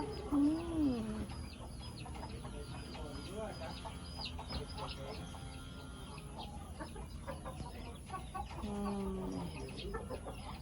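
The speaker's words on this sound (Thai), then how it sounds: "แม่ก็ห่วงลูกน่ารักจริงๆเลยค่ะ ให้ความอบอุ่นกับลูกตลอด ลูกเป็ดสิบสองตัว" A mother duck quacks nearby, joined by many small peeps and chirps from twelve ducklings, with someone talking over the steady background.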